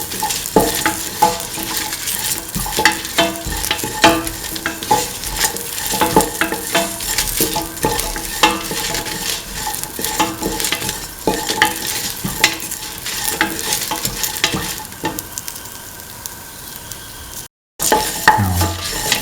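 A spoon stirs a mint and cottage cheese mixture in a hot pan, with repeated scraping strokes over a constant sizzle, loud and close, broken by a brief cut near the end.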